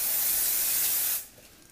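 A sustained hiss of hairspray from an aerosol can, one continuous burst lasting about a second before cutting off abruptly, close and fairly loud.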